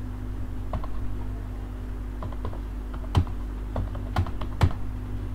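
Typing on a computer keyboard: a few sparse, separate key clicks and taps, close but modest in level, over a steady low hum, with no talking.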